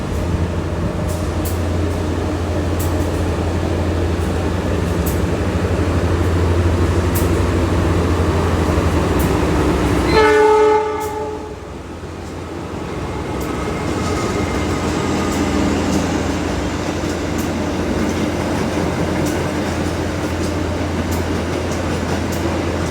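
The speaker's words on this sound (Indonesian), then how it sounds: "untuk perjalanan kereta api Dharma Wangsa di stasiun Semarang Poncol" Dharmawangsa executive passenger train rolls on rails near Semarang Poncol station, a loud steady rumble with a brief screeching squeal midway, then a dip and a return to the continuous running drone.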